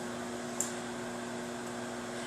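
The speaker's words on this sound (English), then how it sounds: "I'll let you guys watch my microwave." Microwave oven running while cooking a green bean casserole, giving a faint, steady hum and whir that holds evenly throughout with one tiny click near the start and no voices.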